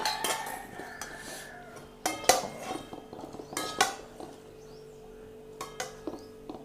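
Spoons clinking against dishes while hot poha with peanuts and coriander is served, several sharp metallic clinks and scrapes in separate bursts, close and otherwise quiet.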